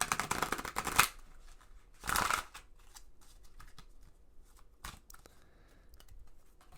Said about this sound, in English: Do a quick little shuffle because you guys deserve it.